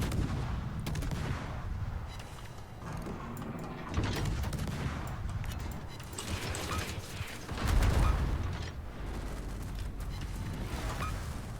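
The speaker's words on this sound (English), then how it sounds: "Anti-aircraft gun crews are on." Anti-aircraft guns on a warship in World of Warships keep up a steady rattling barrage of mechanical firing, dense and continuous with a heavier boom swelling near the end, moderately loud against the ship's background.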